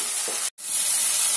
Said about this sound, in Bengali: যেটাকে ভালো করে আমি একটু কষে নেব যাতে এর কোনো কাঁচা গন্ধ না থাকে।